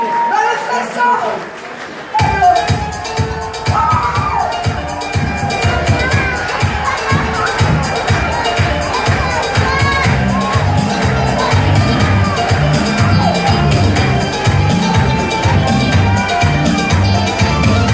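A comedy show audience in Guadeloupe erupts into sustained applause and cheering for a performer, dense clapping and whoops filling the room over music and voices.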